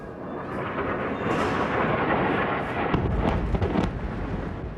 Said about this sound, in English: Explosions just a few miles away regularly echo around the building.